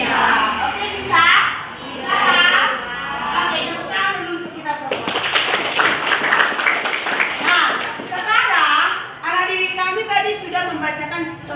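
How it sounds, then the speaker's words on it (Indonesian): Children clap together in a classroom, a burst of brisk hand claps rising in the middle and fading, with a teacher's voice and kids' chatter around it. "Oke, tepuk tangan dulu untuk kita semua."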